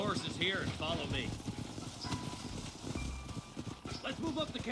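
Horse hooves clip-clop steadily beneath ongoing male speech in Red Dead Redemption, with the game soundtrack and ambient noise filling the background.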